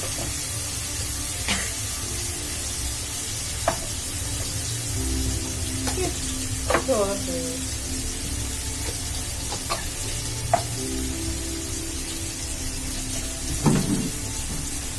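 Snacks fry over a low flame with a steady, even hiss and bubbling of oil that holds throughout, broken by occasional sharp clinks and scrapes of a spatula against the pan, with no voices.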